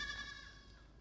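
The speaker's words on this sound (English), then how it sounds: "Now shut up that fucking goat!" A goat bleats on the set of the 2014 film Exodus: Gods and Kings, one short nasal cry that rings out close and then fades away.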